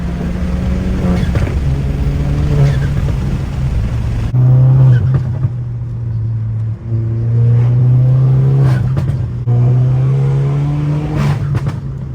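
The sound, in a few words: catless downpipe car exhaust without mufflers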